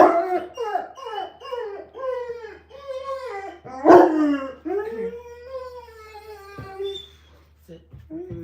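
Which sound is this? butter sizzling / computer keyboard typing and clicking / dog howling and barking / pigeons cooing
dog howling and barking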